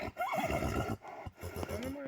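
A black working stallion from a working pair of draft horses in a Ukrainian village neighs in a clear, wavering whinny. A voice speaks over it, and the call dips and returns in short bursts.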